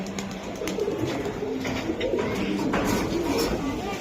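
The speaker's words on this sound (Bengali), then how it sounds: "বাহ অনেক সুন্দর কবুতর" Pigeons of a Giribaz breed coo repeatedly at close range in a bird market, soft throaty warbling calls overlapping against a busy background.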